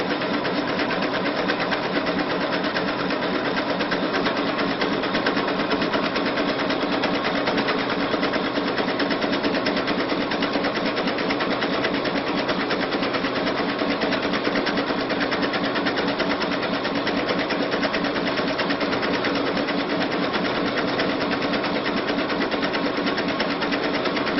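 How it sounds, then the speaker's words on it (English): A sewing machine runs continuously, stitching and feeding fabric with a dense, even mechanical whir and rapid needle rhythm, close and loud throughout. "you can see how the machine moves the fabric. It's literally hands-free."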